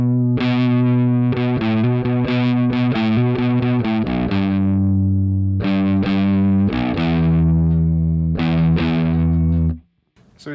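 Heavy distorted electric guitar in a stoner doom style, built from free software amp plugins, chugs out thick sustained chords and riffs loud and alone before cutting off abruptly near the end.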